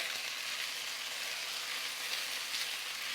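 Orange peel chicken frying in a pan, a steady, close hiss of sizzling oil running unbroken throughout with no voices.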